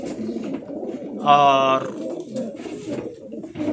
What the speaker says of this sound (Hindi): टोंक के ज़बरदस्त कबूतर जो पूरी दुनिया में मशहूर हैं